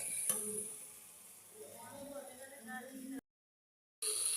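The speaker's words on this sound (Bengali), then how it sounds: "ওর মধ্যে ইঁচড়টুকু ঢেলে দিচ্ছি। এটাকেও কিছুক্ষণ কষাবো" Jackfruit is stirred and fried with spices in a pan, giving soft sizzling with a few clinks and scrapes, and a brief gap of silence near the end.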